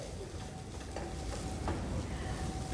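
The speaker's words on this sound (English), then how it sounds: "And he is going to stir it well" Sliced cabbage being stirred in an oiled pan during a cooking demonstration, a soft continuous sizzle with a few light scraping strokes of the utensil, fairly quiet and close, with no talking.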